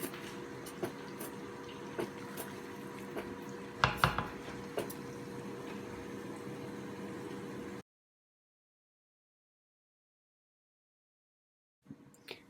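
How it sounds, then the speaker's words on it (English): Thickened meat biriyani being stirred in a pot: steady scraping and soft clinks of a spoon against the pot for about eight seconds, then silence, with a brief clatter returning at the very end. "So you just keep stirring."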